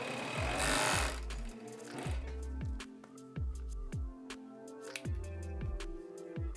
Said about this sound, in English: Okay, so now what I'm gonna do is I'm gonna sew that and cut it right where I got my mark.